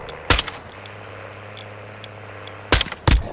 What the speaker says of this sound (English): I'm getting gunfire somewhere.